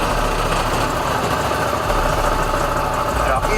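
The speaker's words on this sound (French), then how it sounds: "un moteur bicylindre en ligne" A 1000 cc inline two-cylinder adventure motorcycle engine idles steadily up close, producing a dense, even mechanical rumble with faint vibration and no clear pauses throughout.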